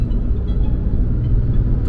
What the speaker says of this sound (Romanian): Tucul a depășit